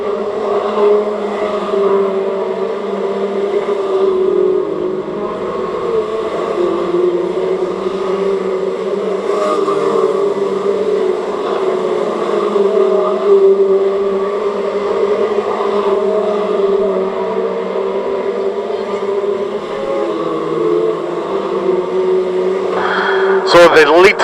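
Stock rod race cars lap the Cowdenbeath Racewall oval, lead cars threading through backmarkers. A continuous loud engine drone rises and falls, and a voice talks over it.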